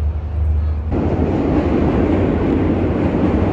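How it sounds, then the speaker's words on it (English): A train in New York City rumbles loudly nearby, passing beneath a bridge, a deep steady roar that swells into broader rushing noise as it passes. "Train passes underneath that bridge there."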